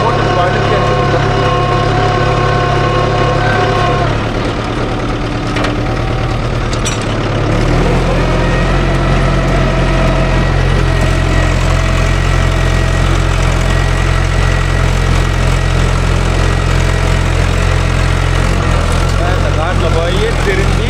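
A Mahindra tractor engine runs steadily in a wet field, a loud close diesel drone with a low knocking throb that shifts pitch briefly before settling into an even rumble, with someone talking over it.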